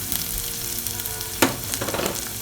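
Something sautés in Milma ghee in a pan with a loud, steady sizzle, broken by one sharp scraping clatter partway through.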